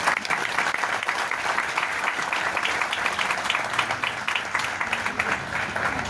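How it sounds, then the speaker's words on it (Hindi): An audience at a business-building seminar in Mumbai applauds, a dense and steady burst of many hands clapping that holds loud for the whole stretch. "इनके लिए जोरदार ताली होनी चाहिए।"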